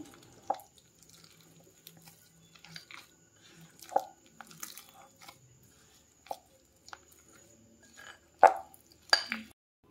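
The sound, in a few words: kneading dough while adding water bit by bit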